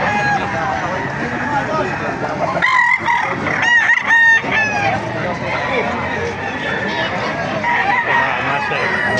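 Many chickens and roosters crow and cluck in a busy crowd at a chicken market in Baliuag, Bulacan, with people talking over the steady clamor.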